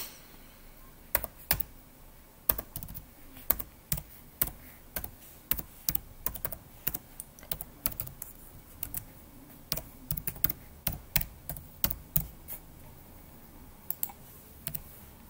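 Close, crisp clicks of a computer keyboard as an email address is typed, the keystrokes coming in irregular bursts with short pauses between them and no talking.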